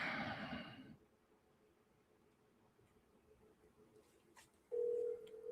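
A telephone dial tone sounds as a steady buzzing hum switching on near the end, close and fairly loud, after a loud burst of noise and a quiet stretch with faint clicks.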